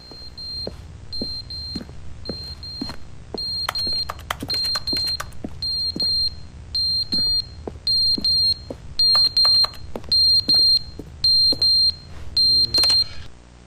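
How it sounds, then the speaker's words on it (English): Repeating electronic fire alarm from The Stanley Parable: loud, steady pulsed high beeps in an even on-off rhythm, with sharp clicks and thumps scattered underneath. "No, it's like a fire alarm."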